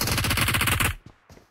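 Rapid machine gun fire in the mobile battle royale game PUBG Mobile, a loud dense burst of rattling shots for just under a second, then cut off, followed by two faint, brief echoing thuds.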